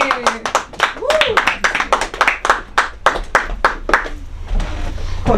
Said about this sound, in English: Please clap for Rachel Levy, everybody!